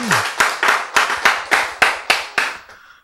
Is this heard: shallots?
no